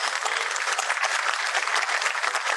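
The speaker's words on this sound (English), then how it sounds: "let's have a huge round of applause for that Garwali dance" A large audience claps at the APhO 2022 closing ceremony after a Garhwali dance performance. The applause is full and continuous, a bright, even roar of many hands throughout.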